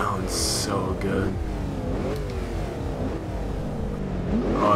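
Loud, close exhaust revving from a 2005 Mercedes-Benz SLR in Forza Horizon 2, the engine note rising and falling through several throttle blips, with a brief hiss near the start.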